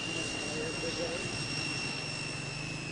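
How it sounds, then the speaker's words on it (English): A government plane's jet engines droning steadily, a continuous dense roar with a thin high whine running through it, heard from close by. "He flew in a government plane with many other guests."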